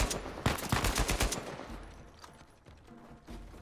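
Sniper fire in the video game Uncharted 4 lands as a handful of sharp, close shots in quick succession, then fades into quieter background game sound.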